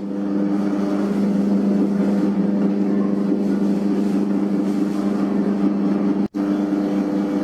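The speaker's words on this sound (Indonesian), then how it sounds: "Mesinnya kita nyalakan, kita siap mengaduk" An electric dough mixer runs on bread dough with a steady, loud motor hum that has a strong tonal drone. It holds constant throughout and cuts out only for a split second near the end.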